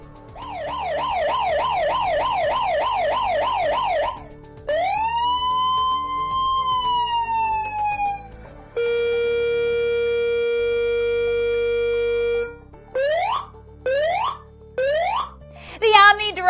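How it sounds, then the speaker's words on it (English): A Federal Signal SST series electronic warning siren runs through its tones: a fast warbling yelp, a rising and falling wail, a steady flat tone, then short rising whoops, all loud and close with no talk. "Federal Signal's SST siren can be used as a standalone, high output, audible warning device in any application"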